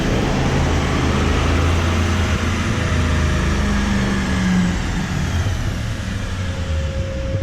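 A Chevrolet L5P Duramax diesel pickup running at full throttle on a chassis dyno, a loud, steady, broadband engine roar that holds continuously throughout, with a faint rising tone near the end and no voices.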